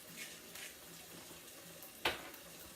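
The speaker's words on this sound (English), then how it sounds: "I'm going to let this saute for a little bit" Escarole seasoned with Himalayan salt and black pepper sautés in a pot. A faint, quiet sizzle runs throughout, broken by one short utensil clink a little past the two-second mark.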